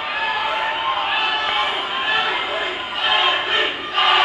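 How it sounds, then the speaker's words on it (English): A cage-fight crowd chants the initials AB, a loud, dense roar of many voices that surges in pulses toward the end with no single voice standing out. "Crowd's going crazy with the AB chants"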